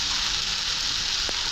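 Pasta tipped into a hot pan with eggs and a little turmeric sends up a loud, steady, close sizzle, with one brief clack near the end.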